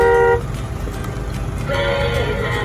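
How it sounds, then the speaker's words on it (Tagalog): A short electronic horn toot from a kids' rechargeable Jeep Rubicon ride-on car blares at the start, then a second tone sounds after a brief pause over a rumbling motor-like background. "Tapos, dito, may busina."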